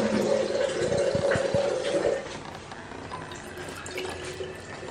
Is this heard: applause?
no